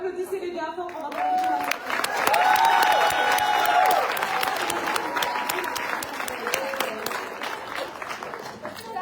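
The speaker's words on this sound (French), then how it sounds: "Donc applaudissez-les bien fort" Loud crowd applause with scattered cheers and whoops at a Scentsy World Tour event in Montréal, dense clapping swelling early then holding steady, with voices faintly mixed in.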